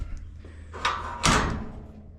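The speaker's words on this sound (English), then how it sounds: "So there's a little double door here." A small double door at a zoo enclosure swings open, giving two fairly close clunks and rattles, the second louder, over low ambient hum and a steady background drone.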